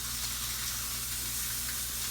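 Pork chop sizzles steadily in a frying pan with a dense, continuous hiss and spatter over a low hum of the stove, fairly close and with no one talking.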